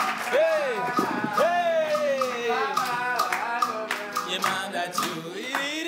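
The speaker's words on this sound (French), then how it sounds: "Wow, applaudissez!" Clapping from a television studio audience at a season-finale game show rises under a loud, animated voice that talks almost continuously over it.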